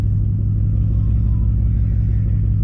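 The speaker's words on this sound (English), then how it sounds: "Oh, literally hear a rev." Mercedes C63s AMG with a muffler delete and PTG1000 turbo setup, giving a steady, loud, low rumbling drone heard close up as it idles or revs gently, with no talk.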